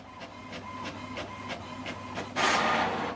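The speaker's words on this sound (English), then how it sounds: "So these are ways to print your document from computer to this printer." An HP Smart Tank printer runs a document, with a regular train of mechanical clicks and whirs roughly every third of a second, then a louder rushing feed noise near the end.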